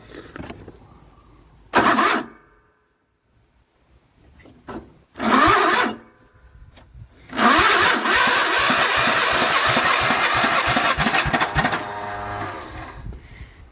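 A Kohler Command small engine with a seizing rod cranks in short bursts, pausing in between, then grinds over in one long rapid churning crank that keeps trying without catching, loud and close.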